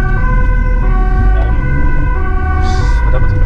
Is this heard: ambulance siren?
yes